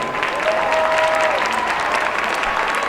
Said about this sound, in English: one more round of applause for the second 2025 Hall of Fame class for Emerald Ridge High School.